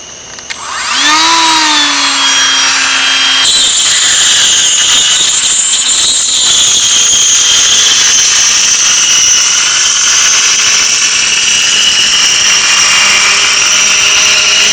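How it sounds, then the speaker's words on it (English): A Dremel router spins up with a rising whine and then cuts a channel through white styrofoam, a loud, sustained high-pitched motor drone lasting throughout with no talking. "I'm just going to use this router and an air duster"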